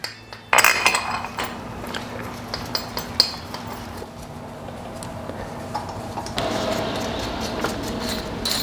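Hardware being handled while accessories are installed on a K24-swapped BRZ engine, with scattered metallic clinks and small ticks, a louder knock early on, and a steady hum in the background.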